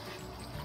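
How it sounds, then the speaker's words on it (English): The toilet in a Taxa Cricket camper trailer flushes with a steady, close rush of running water, brief and uninterrupted, with no talking over it. "There's your flush."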